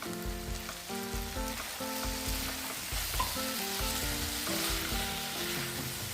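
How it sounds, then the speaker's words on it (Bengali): Chicken frying in a pan for street-style chilli chicken, a steady close sizzle with faint stirring over background music, no speech. "আমি এটা গ্রেভিওয়ালা চিলি চিকেন বানাবো, তাই আমি এখনই চিকেনগুলো দিয়ে দিলাম।"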